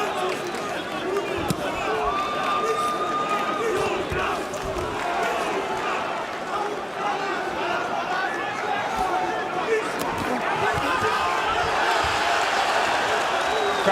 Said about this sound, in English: Crowd reacting to what was just a balance stumble right by Huck there